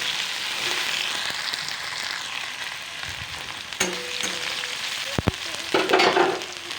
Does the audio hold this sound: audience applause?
no